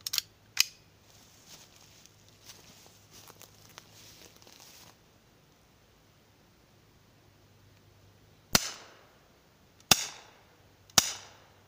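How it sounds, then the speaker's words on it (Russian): An air gun fires three shots into a block of lard used as a ballistic target, sharp dry cracks spaced a second or so apart after quieter handling clicks and rustling earlier on. "Было сделано 3 выстрела."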